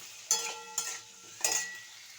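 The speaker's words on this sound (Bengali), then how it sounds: "আমি আলুটাকে একটু হালকা করে ভেজে নেব" Boiled potatoes lightly frying in a pan for a paneer recipe, a soft sizzle under three sharp scrapes of a spatula stirring them, spaced irregularly, close and clear with no talk.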